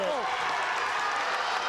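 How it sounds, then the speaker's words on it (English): A Mandan crowd cheers at a high school wrestling meet, a steady broadband roar of applause and voices filling the gym throughout, near and loud. "As the Mandan crowd starts livening up a little bit"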